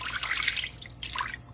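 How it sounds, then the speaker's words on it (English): Chicken broth pours into a pot over chicken, a soft continuous liquid splashing and trickling that swells, dips briefly, and then picks up again, quiet and close. "Next, we're going to add some chicken broth."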